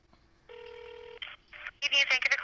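An electronic telephone ring with a steady warbling tone followed by short bursts, then a voice begins speaking over it.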